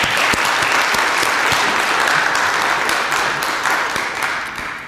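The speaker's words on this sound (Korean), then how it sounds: "우리 하나님의 영광의 박수 한번 올리겠습니다." Loud, full applause from a congregation at a university end-of-semester worship service, many hands clapping in a dense roar with a few distinct sharp claps, tapering off near the end.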